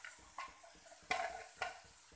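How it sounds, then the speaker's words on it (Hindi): Finely chopped garlic sautéing on a low flame gives a soft, quiet sizzle broken by three or four short scraping stirs, close and without talk. "2 से 3 लहसुन फाइनली चॉप किए हुए, और इसे अब हम अच्छी तरह धीमी आंच पर भून लेंगे।"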